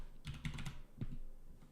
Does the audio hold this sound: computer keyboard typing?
yes